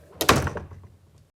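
A door swings shut in a single thudding close with a short bang, then fades quickly in a fantasy audiobook scene.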